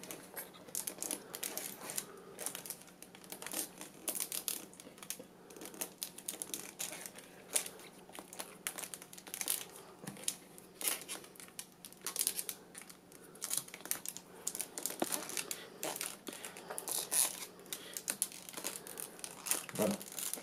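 Wicker strands being woven to close the base of a basket, producing quiet, irregular crackling, rustling and snapping sounds close by, with a voice speaking softly at times.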